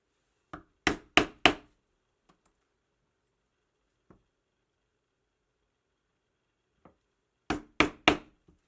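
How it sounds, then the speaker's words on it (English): Leather is punched for stitch holes on a wallet, two sharp clusters of three or four loud hammer strikes on a punch separated by a quiet pause with a couple of faint taps. "we're just going to punch and sew this line before we finish this edge"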